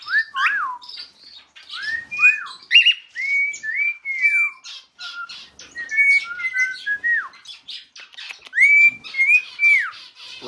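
A pet bird chirps and whistles in a steady run of bright, sliding calls and tweets, close and fairly loud, with short gaps between phrases. No human voice is heard.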